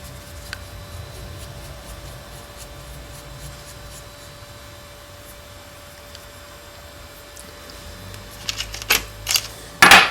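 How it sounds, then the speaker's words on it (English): A set screw is worked out of a Crosman 2240 air pistol, heard as quiet faint ticking and rubbing of small metal parts that builds toward the end into a few louder clicks and handling knocks, with no talk. "we're going to take that screw out"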